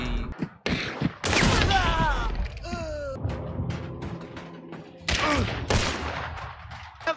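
Gunfire in the video game Hunt, several sharp shots in a tense firefight with a burst of rapid fire and mechanical clatter.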